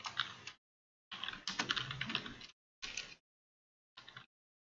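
Typing a message on a computer keyboard, close quick bursts of key clicks in four separate runs with silent gaps between them, no voices.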